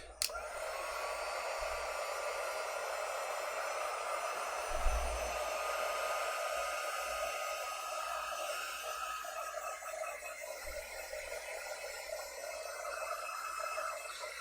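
A hair dryer blows steadily and alone throughout, drying a chalk transfer on a craft charger plate, a constant broad whooshing hiss at even volume with a faint click at the start.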